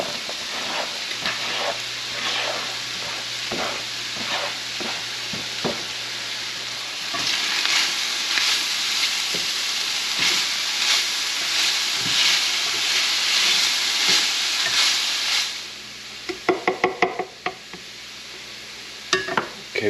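Sausage fries in a pan with freshly added ramps and wild mushrooms, a dense close sizzle that swells midway, then gives way to a few sharp clinks of a utensil against the pan.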